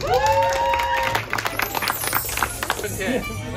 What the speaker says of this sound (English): All right, round of applause to the Sarahs